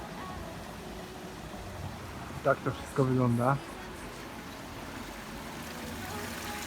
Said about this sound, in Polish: to jest strumień płynie